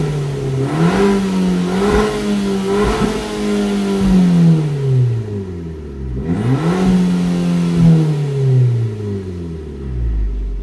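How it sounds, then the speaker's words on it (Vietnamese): Abarth 595 small turbocharged hatchback engine revved repeatedly from inside the cabin, exhaust note rising and falling in several strong sweeps before dropping to idle, loud and close with no talking. "đạp thử ga xem là tiếng bô nghe từ trong cabin như thế nào nhở"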